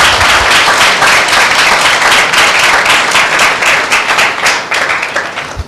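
A congregation at a Tuesday church meeting breaks into loud, dense clapping that keeps going steadily for several seconds, then thins slightly toward the end.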